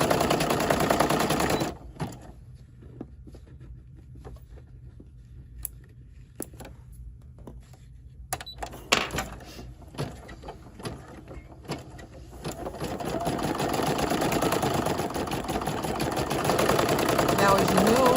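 A home embroidery machine stitches a split design in a jumbo hoop with a rapid mechanical clatter, stops for a color change, gives a few sharp clicks and a snip, then resumes its steady hum while someone talks.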